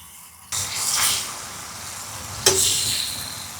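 Butter hitting a hot frying pan for an Egyptian home breakfast gives a sudden broadband sizzle that swells and fades, then a second sharp burst of hissing and spitting near the end, close and steady with no talk.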